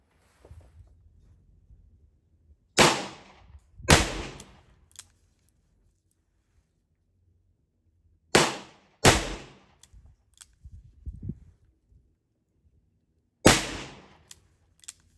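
A revolver loaded with Saeco #397 wadcutter bullets fires at targets outdoors: five sharp, loud shots in uneven pairs, with a little handling noise between them.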